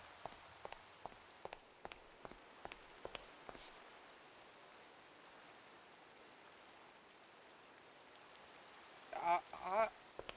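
Rain falling in the video game Minecraft, a soft steady patter with scattered crisp drips at the start, faint and even, with a couple of brief louder squawking sounds near the end.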